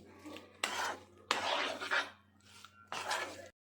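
Prawns being tossed with mustard oil in a bowl, giving wet rasping, scraping stirs in several bursts of a few seconds each, close and fairly quiet, with no talking.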